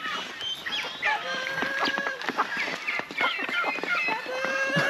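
Several turkeys gobble and cluck close by, their calls overlapping with scuffling movement and some background chatter.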